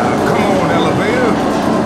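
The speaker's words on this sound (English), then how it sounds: "Come on, elevator" An elevator moving in a video game, a loud continuous rumbling rail-like drone with faint tonal whines, close and filling the whole stretch, with a voice likely talking underneath.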